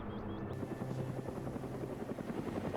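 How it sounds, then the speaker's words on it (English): A helicopter in the Arma 3 video game, in the jungles of Tanoa, gives a steady, loud rotor chop that throbs evenly throughout with no voices. "Chopper still isn't spotted."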